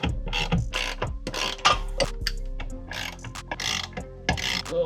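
A hand ratchet clicks rapidly while tightening a bolt on a Jaguar XJR during driveshaft bearing work, close and loud in bursts of quick pawl clicks with brief pauses.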